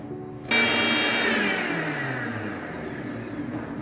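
A kitchen blender crushes apples with sugar for apple juice, its motor starting with a sharp jump and then whirring steadily and loudly for several seconds without any talk.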